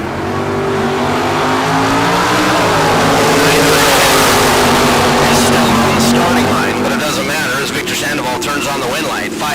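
Drag race launch between a 1966 Chevrolet Nova and a 1984 Camaro at a bracket race: loud, sustained engine roar building and holding, with tire noise and a commentator talking over it throughout.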